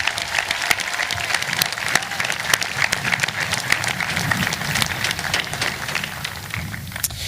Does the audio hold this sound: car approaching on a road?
no